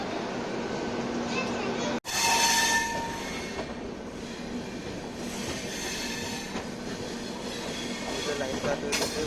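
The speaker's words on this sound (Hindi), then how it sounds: "डॉट ऑन टाइम 11:26 को अपनी ट्रेन कानपुर से निकल पड़ी।" Lucknow Swarna Shatabdi Express running out of Kanpur, a steady loud rumble of wheels on rails with rattling coaches and a brief squeal, heard from inside the train throughout with a sharp break near the start.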